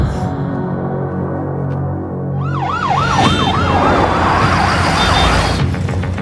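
An ambulance siren wails loudly in a rapid, rising and falling yelp over heavy street and engine noise, close by and continuous, in a Hindi action film scene.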